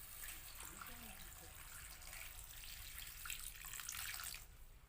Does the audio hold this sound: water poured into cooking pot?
yes